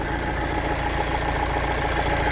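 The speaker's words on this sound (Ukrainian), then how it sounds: "чиста робота двигуна" A turbocharged diesel commercial van engine idles steadily, a continuous low rumble with a faint rhythmic knock, close and unchanging throughout.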